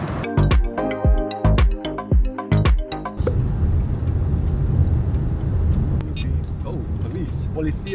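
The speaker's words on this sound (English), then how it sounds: "This fool is speeding in the Hyundai Elantra." A Hyundai Elantra speeds up close behind on the road. A voice is heard briefly at first, then a loud, steady roar of engine and tyre noise takes over.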